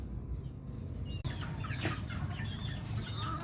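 A pet fighting rooster, a two-time champion, clucks softly and repeatedly close by, a low murmuring cackle over faint background noise, with a brief sharp click partway through.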